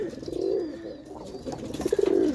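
A racing pigeon hen coos in low, rolling bursts close by, fairly loud, with a second throbbing coo near the end and no voices.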